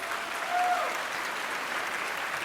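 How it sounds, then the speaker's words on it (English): An audience at the 2024 MALDEF San Antonio Awards Gala applauds, a dense, steady wash of clapping from a large room that holds evenly for a few seconds. "Let's give another round of applause for each of the honorees and our sponsors."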